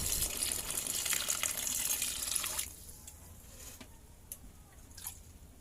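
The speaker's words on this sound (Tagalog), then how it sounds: "Lalagay lang tayo ng konting tubig" Water poured from a container into a cooking pot of sautéed shrimp, a loud, steady splashing rush for about two and a half seconds that cuts off, followed by a few faint drips and small clinks.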